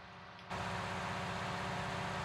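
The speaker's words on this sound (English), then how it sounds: "The tractor is struggling a little bit to get up here." A tractor engine in the Farming Simulator 19 video game strains up a steep dirt-road hill, a steady loud low drone that jumps up abruptly after a quieter opening and holds constant with no speech.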